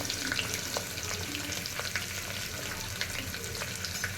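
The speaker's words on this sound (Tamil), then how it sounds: "நல்லா வெங்காயம் கோல்டன் கலரில் வர வரைக்கும் நான் கொஞ்சம் நல்லா 2 to 2 மினிட்ஸ் வதக்கலாம்." Sliced onions, green chillies and curry leaves fry in a pan for a vegetable kuruma, a continuous soft sizzle with light crackles and occasional scrape-like stirring.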